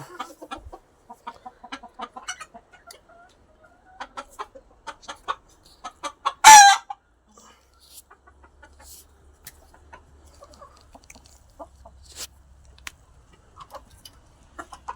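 Chickens cluck in scattered, soft bursts nearby inside a large coop, with one loud sharp squawk in the middle, then a quieter stretch of occasional clucks and a low hum.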